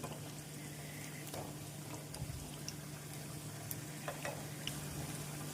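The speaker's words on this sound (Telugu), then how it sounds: "ఇప్పుడు అన్ని వైపులా తిప్పుకుంటూ వీటిని మంచి బ్రౌన్ కలర్ వచ్చేంత వరకు ఫ్రై చేసేసుకోండి" Vadas deep frying in hot oil, a soft continuous sizzle and bubbling with occasional small pops, fairly faint and steady throughout without talking.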